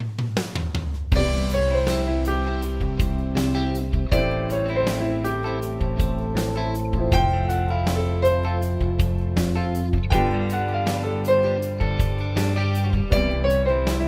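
A jazz lick played on an instrument over a backing track, with plucked notes and a steady rhythmic groove running continuously for about fourteen seconds, no talking.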